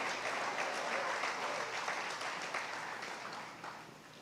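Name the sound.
church congregation applauding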